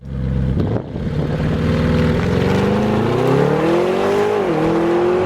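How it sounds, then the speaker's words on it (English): An Audi RSQ8 performance SUV engine and exhaust accelerating hard, a loud close droning roar climbing steadily in pitch through the gear before a brief dip at a shift, with no talking. "This sounds good, sounds really good, but it is on the quiet side. I would have expected a little more sound from the exhaust"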